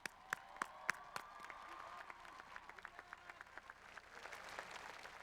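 A graduation ceremony audience in a large commencement venue applauds, with sharp individual claps at first swelling into a dense, distant wash of clapping from the crowd.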